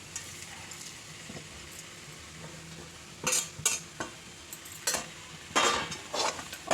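Whole onions stirred into a pan of small raw potatoes, spoon scraping and clattering in several sharp bursts over a quiet background sizzle.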